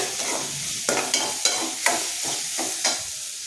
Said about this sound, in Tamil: இஞ்சி பூண்டு பேஸ்ட்டு கால் ஸ்பூன் போட்டுக்கிறேன் அதுவும் பச்சை ஸ்மெல் போகிற வர வதக்கி விட்டுக்குவோம்